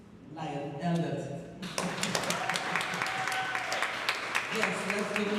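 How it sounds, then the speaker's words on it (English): A crowd at a dental care workshop claps steadily, the applause swelling after a quiet start and continuing with scattered sharp claps. "let's give him a round of applause."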